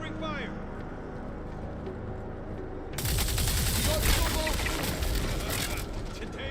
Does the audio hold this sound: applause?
no